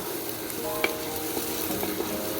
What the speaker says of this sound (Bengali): এবার এটাকে আমি সুন্দর করে ভেজে নেব